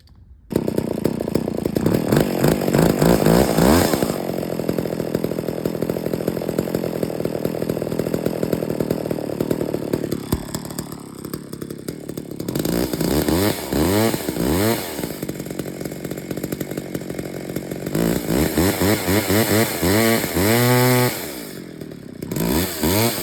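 Old McCulloch 10-10A chainsaw engine running after repair and still needing tuning, a loud continuous two-stroke drone that rises and falls as the throttle is blipped, with brief dips and revs.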